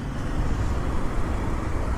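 Road traffic near Shivaji Park in Dadar, Mumbai, a steady low rumble of passing cars and heavier vehicles, fairly close and continuous, with no voices over it.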